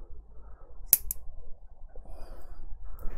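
Wire cutters snipping through bonsai training wire coiled on a branch: two sharp, quick clicks close together, near and crisp, with quiet handling rustle afterward.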